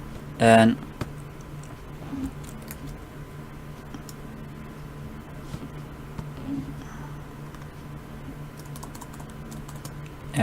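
Soft keystrokes of typing on a computer keyboard tick along intermittently after a loud thump at the start, quiet and close, with low background hum.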